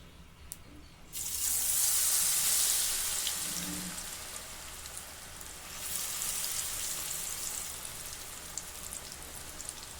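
Onion pakoda batter hits hot oil after a brief quiet moment, bursting into a bright, hissing sizzle that holds steady and swells again midway, close and continuous.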